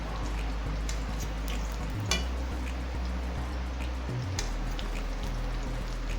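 Green plantain slices fry in coconut oil with a steady, close sizzle and crackle throughout, broken by a couple of brief clatters as pieces are flipped, with no talking.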